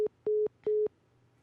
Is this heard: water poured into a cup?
no